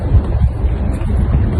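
Gusty wind in Abu Dhabi buffets the microphone in a low, rough rumble, steady and close throughout the short moment.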